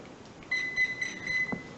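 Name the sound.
electronic speed controller beep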